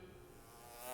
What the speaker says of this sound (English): A bee stung me on the neck and is still buzzing around the room.